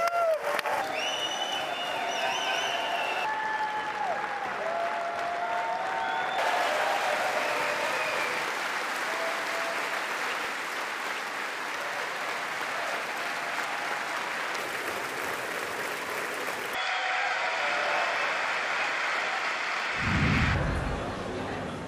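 An audience gives sustained applause and standing ovations during a speech by the Israeli Prime Minister, a long, dense roar of clapping with some cheering, steady and loud across several stretches.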